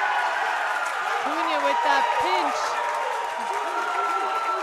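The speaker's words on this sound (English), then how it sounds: "The crowd is on its feet cheering on their boy from Costa Rica" Spectators cheering and applauding at a racquetball Pan Am Championships men's singles quarterfinal, a steady roar of crowd noise under a commentator's voice throughout.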